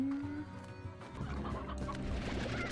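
Chickens cluck repeatedly among busy background noise and clatter, fairly steady throughout with no talking.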